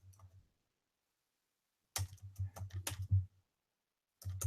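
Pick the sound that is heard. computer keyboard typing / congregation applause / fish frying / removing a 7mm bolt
computer keyboard typing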